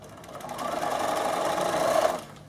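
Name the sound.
Bernina sewing machine straight stitching elastic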